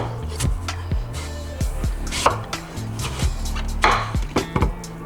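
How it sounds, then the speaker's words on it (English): Knife chopping daikon radish on a cutting board, a run of sharp close knocks at an uneven rhythm, roughly eight to ten strikes, with small clatters between. "chop them in half and chop them down a little smaller than this"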